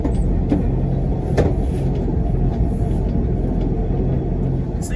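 An old International truck engine runs while the truck rolls along, giving a steady, close, low rumble that holds an even level throughout with no talking.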